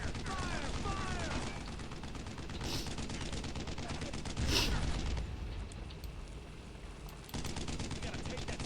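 Rifles and machine guns fire steadily at an enemy tank in Brothers in Arms, a dense, close barrage with mechanical clatter and a voice heard briefly under the shooting.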